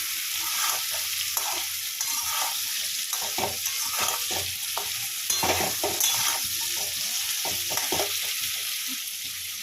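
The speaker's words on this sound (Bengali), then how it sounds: "একটু ভেজে নিই, বড় বড় করে কেটেছি" Large-cut vegetables fry in a pan for khichuri, a steady close sizzle with frequent scraping stirs and clanks running throughout, no voices.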